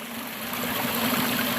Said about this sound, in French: la petite cascade.